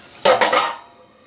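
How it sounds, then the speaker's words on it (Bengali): A metal pot lid is lifted off a simmering vegetable curry of potato and pumpkin, giving two quick clattering clanks close by, then a ringing fade. "এখন ঢাকনাটা তুলে দিচ্ছি তরকারিটা"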